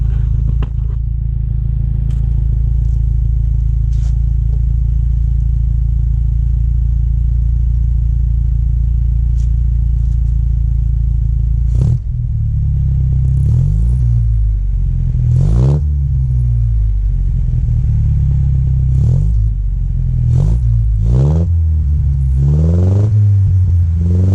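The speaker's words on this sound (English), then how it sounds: "we'll let you listen to the exhaust a little bit" A 1953 Austin Healey 100 engine and exhaust, first a deep steady idle rumble held for about twelve seconds, then a series of sharp throttle blips and revs that rise and fall repeatedly, loud and close.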